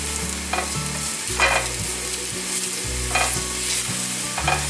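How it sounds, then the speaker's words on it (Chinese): Minced ginger and celery stir-fried in a little oil in a wok, a steady sizzle broken by repeated scraping strokes of the spatula, close and fairly loud with no voices. "锅内放入少许油，放入姜末和芹菜末炒香。"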